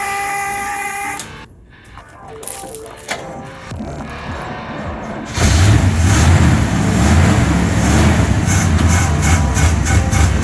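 A 1971 Chevelle, left sitting since 1987, cranks with clicks and grinding, then its engine catches and runs loudly and roughly, close up.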